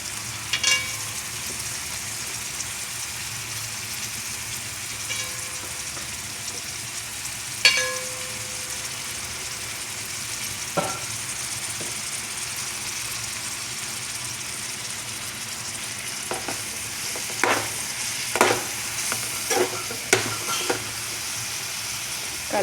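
Cauliflower pieces fry in hot oil with a steady hiss and crackle, occasional utensil knocks and scrapes becoming more frequent toward the end as the pan is stirred.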